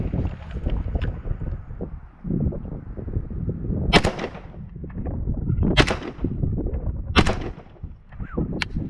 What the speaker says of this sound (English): I'm gonna do 3 shots on the bottom target